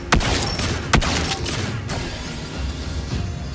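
Lesley's sniper rifle fires in a video game: two sharp, loud cracks about a second apart, followed by a fainter third report, over a dense, continuous battle background.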